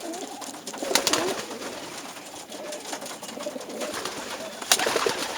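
Racing Sion pigeons coo softly and repeatedly in a loft, the murmur continuous with scattered wing flutters and sharp clicks.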